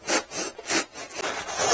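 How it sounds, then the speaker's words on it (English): A hacksaw blade cuts the seat hump of a 2023 Hawk-X 250 motorcycle, with about four rhythmic back-and-forth strokes, each a close, gritty rasp separated by brief pauses. "This hacksaw blade seems to be working really good."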